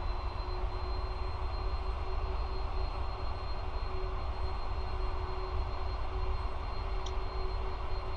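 PMDG 747 jet engines taxiing in the Prepar3D flight simulator, a steady, loud idle whine and low rumble holding even throughout with a faint high tone, no voices.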